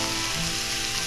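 Samgyeopsal pork belly sizzles on an outdoor grill at a campsite, a close, steady crackling hiss that runs without a break.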